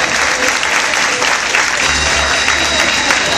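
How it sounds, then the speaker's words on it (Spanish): A circus show audience in a resto bar claps loudly and continuously, a thick, even burst of applause from a nearby crowd lasting a few seconds, with faint voices mixed underneath. "¡Fuerte el aplauso!"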